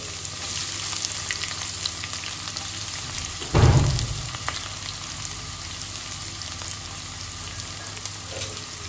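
Two large chopped onions hitting hot oil in a pan to fry until light brown, giving a sudden loud sizzling surge that settles into a steady, even hiss.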